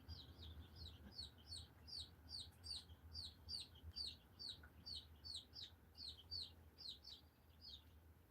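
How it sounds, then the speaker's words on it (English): Backyard chickens cluck and chirp in a steady, rhythmic run of short calls at moderate distance over a low background hum, with no talking. "You guys hear my chickens?"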